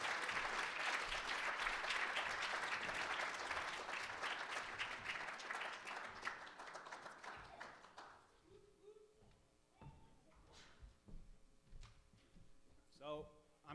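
A crowd at a survival talk applauds a speaker with loud, sustained clapping that fades out after about eight seconds, leaving scattered taps, a faint hum and a voice beginning to speak.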